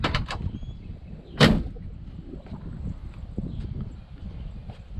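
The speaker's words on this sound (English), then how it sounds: "Doors all close very nice." A car door on a 1968 Ford Mustang slams shut once, a single loud, close thump early on, followed by quieter low rumbling and faint handling sounds.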